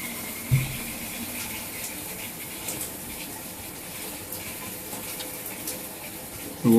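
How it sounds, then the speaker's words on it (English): Water runs steadily from a Triton T80xr electric shower, a continuous even hiss of spray at moderate level with a small knock early on and a louder click at the end. "The water's running through okay."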